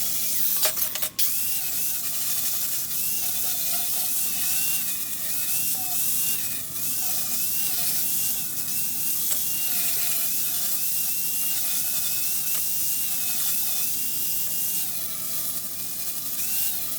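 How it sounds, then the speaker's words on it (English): An 80 grit flap disc on an angle grinder bevels and cleans steel edges ahead of welding, a steady high whine with a wavering tone running continuously and loudly throughout, briefly dipping near the start. "Just using a flap disc, 80 grit flap disc to clean up the edges."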